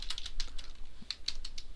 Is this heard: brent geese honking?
no